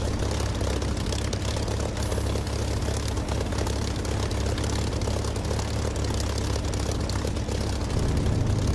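A propeller aircraft engine idles steadily in the DCS flight simulator game, a loud continuous drone with a deep low rumble that holds evenly throughout and rises slightly at the very end.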